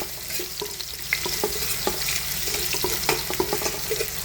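Garlic, onion and ginger sauté in a hot pan while a utensil stirs and scrapes through them, giving steady sizzling with repeated clicks and scrapes up close and no talking.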